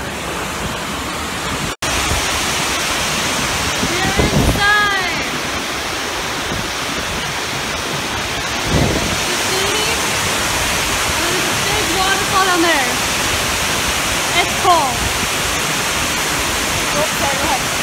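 Huge waterfall roaring inside a rocky tunnel, a loud, steady rushing wash of water that fills the whole space continuously, with brief louder surges.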